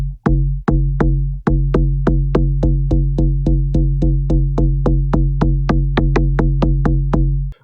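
Punchy, plucky FM synth bass notes made in Serum with added white noise repeat in a steady fast rhythm, each with a sharp bright attack and quick decay, loud and alone.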